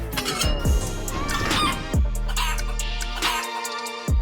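Loud, squeaky peeping calls from a newly hatched chick repeat in short bursts, close by and slightly harsh, with no talking.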